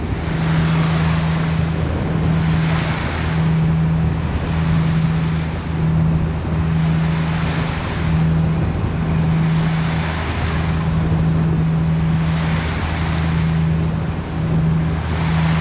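Steady wash of water and wind around a trawler crossing Seaforth Channel on the northern British Columbia coast, with gentle rolling swells and a low continuous engine hum underneath.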